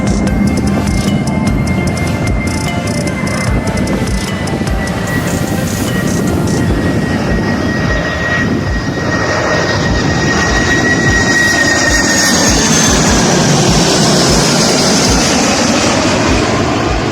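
Airliner engines during plane spotting in Bahrain, a loud, steady roar with a high whine rising and shifting across the whole stretch, heard up close with no talking.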